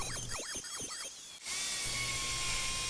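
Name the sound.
router cutting a recess for a pocket hole jig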